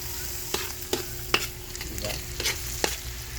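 Ginger fries in a pan with a quiet, steady sizzle broken by several sharp scrapes and taps of a spatula, close and alone with no talk.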